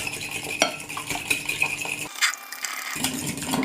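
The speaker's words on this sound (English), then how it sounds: "you're going to get a fork or a whisk, and then we are going to whisk this" Eggs being whisked with a fork or whisk in a bowl for fluffy scrambled eggs, a steady quick clatter of metal against the bowl that stops briefly near the end, then resumes.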